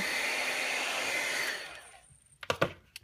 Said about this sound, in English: So I'm going to zap this with my heat gun real quick to kind of dry it all.